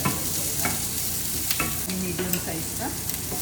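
Urad dal, curry leaves and onion sizzle loudly in a hot kadhai, with a constant frying hiss broken by scrapes and clinks of a spoon stirring.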